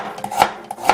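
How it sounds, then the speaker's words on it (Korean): A knife slicing ginger thinly on a cutting board for ginger syrup, a few crisp, close chopping strokes spaced unevenly and sounding alone. "두 쪽을 얇게 저며주세요."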